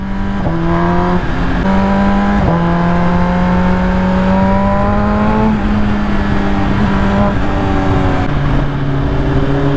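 A motorbike rides along a scenic mountain road between Sonamarg and Kargil on the way to Ladakh. Its engine drones loud and close throughout, with pitch climbing and dropping through several gear changes, and no talk.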